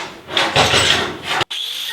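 A cut-off blade grinds through a 1/8-inch metal piece in a harsh, loud, continuous whine. The blade pulls away sharply near the end, and a lighter steady whir carries on.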